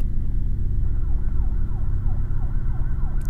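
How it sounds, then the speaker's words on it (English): Police sirens wail in repeating sweeping cycles over a low steady rumble, sounding at moderate distance and holding fairly constant in loudness. "I was later awakened to the sound of police cars approaching, growing louder."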